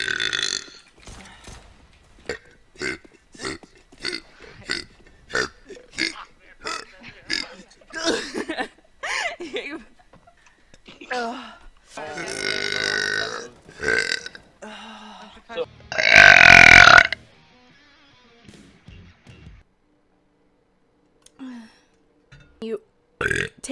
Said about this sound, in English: Sorry, I burped.